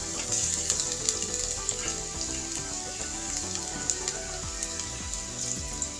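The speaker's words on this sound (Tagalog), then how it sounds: "Ilagay natin ang ating garlic." Garlic sizzles and crackles in a hot pan while creamy sopas is being cooked, a continuous close frying hiss with scattered sharp pops and a few light stirring scrapes.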